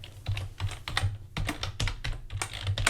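Fingers type on a computer keyboard in quick, uneven bursts of close, crisp key clacks, with short pauses between groups of strokes and no voices.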